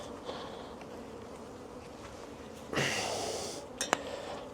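Honeybees hum at an open, busy spring hive, a faint, steady buzz close by, broken near the end by a louder burst of wing noise and a couple of light clicks.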